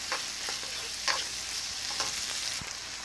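Rice stirred into melted butter in a hot pan for fried rice, a steady close sizzle broken by soft scraping strokes of the spoon against the pan, with no one talking.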